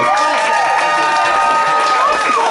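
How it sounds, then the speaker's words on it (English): A loud concert crowd cheers and shouts continuously, with whoops and a dense wash of voices filling the space, likely mixed with applause. "A round of applause to you."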